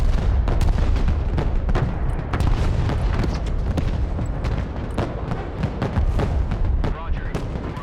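Artillery in the video game Broken Arrow fires in rapid repeated booming blasts and distant impacts, dense and loud throughout, with voices speaking over the barrage.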